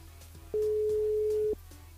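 A telephone ringback tone sounds while a radio host calls a listener's mobile phone during a live broadcast. One steady tone lasts about a second over a low background hum.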